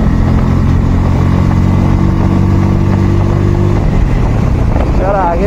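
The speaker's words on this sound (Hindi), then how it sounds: "थोड़ा भगाते भाई बाइक को।" A new Bajaj Pulsar N160 motorcycle speeds up on a road, its loud engine drone steady and close. The pitch shifts near the end amid wind rush, with a voice talking over it.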